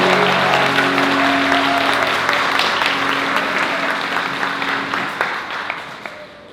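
Wedding guests in a wedding hall applaud the couple, a loud sustained burst of clapping that fades gradually over several seconds, with faint voices underneath.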